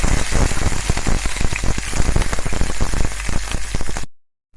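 Chopped onions fry in oil for a murungai keerai (drumstick leaf) dish, with a dense, rain-like hiss and scattered crackles, then the sound cuts off abruptly.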